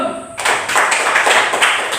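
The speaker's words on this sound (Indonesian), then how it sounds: "Tepuk tangan untuk kelompok ini dulu." A classroom group breaks into applause after a brief moment of quiet, steady clapping from many hands, close and fairly loud.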